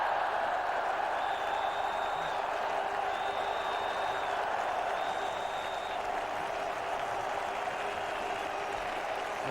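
Cricket crowd at the 1999 World Cup match between West Indies and Australia cheering and applauding a boundary, a steady broad roar of many distant voices and clapping that holds for the whole stretch.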